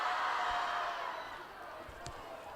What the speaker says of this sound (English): And now the Brookings crowd trying to get the Bobcats fired back up.